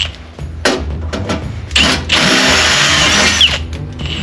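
Power drill enlarging a bolt hole in a Jeep Wrangler Rubicon front fender, short whirring bursts building into a long loud continuous drilling whine, close up.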